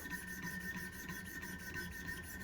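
Knife blade drawn over a coarse 50 grit stone on a Wicked Edge guided sharpening system, giving a steady, harsh, close rasping scrape that keeps going without a break.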